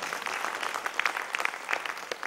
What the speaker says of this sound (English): please give a very good round of final applause for the success of each and every member of the Japura University Toastmasters Club